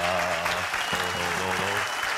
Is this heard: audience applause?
yes